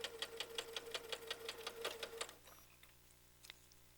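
A sewing machine stitches fabric in a quick, even run of mechanical ticks and clacks for a couple of seconds, then stops, leaving faint quiet room sound and a lone small click; recorded softly with no speech.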